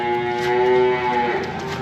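Nine-month-old heifers in a sand-bedded freestall barn moo loudly and close by, overlapping low bellows with a steady tonal drone running through the whole stretch, no talking.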